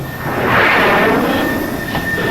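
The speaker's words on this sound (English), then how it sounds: "Airplane!" A steady airplane engine drone rumbles throughout, swelling slightly, with no voices.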